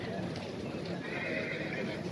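A black horse whinnies at a busy livestock market in Nookat, its neigh rising over constant crowd chatter and the clatter of hooves throughout.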